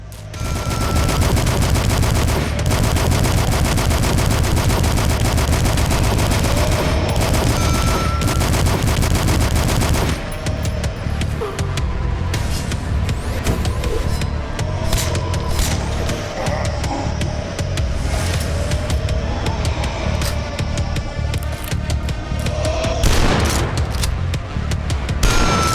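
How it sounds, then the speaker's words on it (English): Mortar fire and explosions in the shooter game DUSK, a dense, loud barrage of blasts and rapid shots that runs without pause, with the texture shifting after the first ten seconds. "Some mortars up front here."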